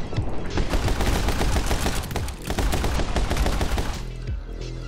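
Dual pistols fire in My Friend Pedro in rapid, dense bursts of close, loud shots, rattling almost nonstop with one brief dip midway.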